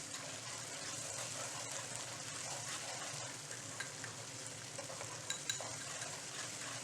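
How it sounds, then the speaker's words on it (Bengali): Onions with ginger-garlic paste and coriander leaves fry in a pan for a chicken curry. A steady soft sizzle runs throughout, broken by the occasional clink and scrape of a spoon stirring the pan. "ভালো মতো এটাকে ফ্রাই করে নিতে হবে"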